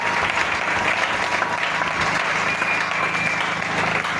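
A church congregation applauding, loud sustained clapping from many hands filling the room, with a faint voice underneath.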